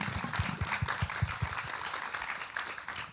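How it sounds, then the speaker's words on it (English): Conference audience at a refugee and immigrant youth event claps for panelists, a dense round of applause with rhythmic low thumps at first, settling into a steady patter that continues to the end. "So a round of applause for our panelists,"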